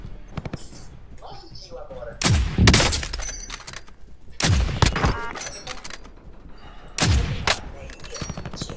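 Sniper rifle shots in Call of Duty Warzone gameplay, several sharp loud cracks spaced a couple of seconds apart, with faint game sounds between them and a voice speaking at times.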